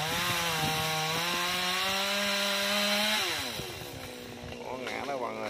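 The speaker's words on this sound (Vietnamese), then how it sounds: "ngồi đó cưa cái nhánh to các bạn" A chainsaw cuts a large branch of a big rosewood tree, its engine holding a steady high whine before the pitch drops as the cut ends, loud and close throughout.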